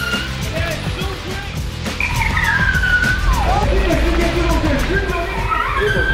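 A car drifts into a tight parallel parking space with tires skidding and squealing in long sliding sweeps over a loud engine roar, with a voice talking beneath it.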